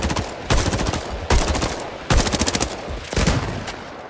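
Bursts of automatic gunfire in the video game Highguard, fired while aiming and moving: four loud, rapid volleys of shots separated by short gaps, with no talking.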